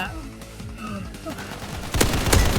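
Rapid gunfire from shooting bots in a first-person video game, bursts of close loud shots that build toward the end, over fast excited talking.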